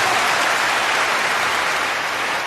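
Audience at a live comedy show applauding steadily, a dense, loud wash of many hands clapping throughout with no voices over it.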